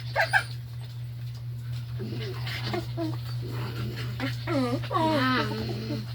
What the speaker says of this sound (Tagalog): Ito yung mga aso namin